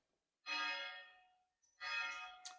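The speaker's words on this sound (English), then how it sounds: "That noise you hear, the bell," Two resonant strikes of a town landmark bell in Montepulciano, each ringing out and slowly decaying, heard from some distance in an otherwise quiet setting.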